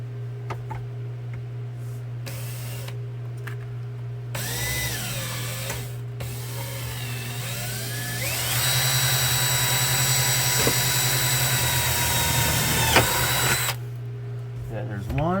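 A power drill whirs close by in bursts inside a Chevy van, a short run and then a longer, louder stretch, with a steady hum beneath and occasional speech.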